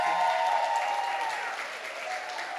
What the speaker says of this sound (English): So I want the guests now to give the audience, the visitors, a round of applause.